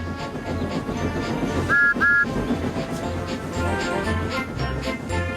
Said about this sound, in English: Beep, beep! Good morning, Percy, he whistled